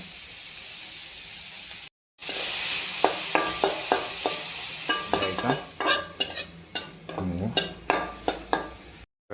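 Paneer is sautéed for paneer bhurji in a pan. After a short gap a loud hiss bursts in, followed by a quick series of scraping spatula strokes against the pan over a steady sizzle.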